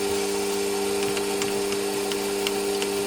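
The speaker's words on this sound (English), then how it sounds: "Back up with a chamfering tool." A metal lathe runs with a steady whine as a chamfering tool cuts a chamfer on a Stuart Models S50 model engine flywheel, with faint rhythmic ticks of cutting under the constant machine tone.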